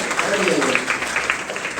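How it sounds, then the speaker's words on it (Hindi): Loud applause from an audience at a school motivational lecture, a short burst of many hands clapping that blends with a voice. "जोरदार तालियां।"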